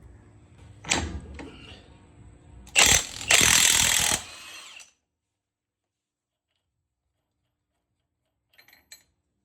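A ratchet loosens the axle nut on a first-generation Toyota Tundra, giving a close run of mechanical clicking and grinding with a loud burst in the middle, then silence broken by a few faint ticks.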